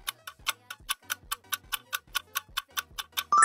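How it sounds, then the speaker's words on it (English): A clock ticks in a steady, even rhythm of about four crisp ticks per second, close and clear with nothing else behind it, until a brief tone cuts in at the end. "Answer is a clock."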